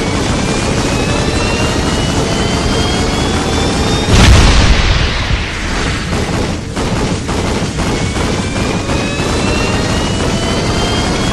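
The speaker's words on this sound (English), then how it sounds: "Try firing your combustors at once to deliver a supercharged blast of power" A supercharged combustor blast in the Ratchet & Clank game fires as a single sharp booming burst partway through, set against loud whining engine drone and rumbling background noise, with no talk.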